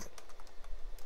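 Someone types on a computer keyboard, and about ten quick, close key clicks fall in an uneven but steady rhythm during a short burst with no talking.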